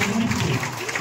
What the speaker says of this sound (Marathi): जोरदार टाळ्या वाजवून या ठिकाणी आपण स्वागत करूया